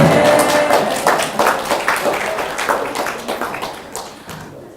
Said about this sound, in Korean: 깨달으면 빨리 하나님께 박수 쳐라.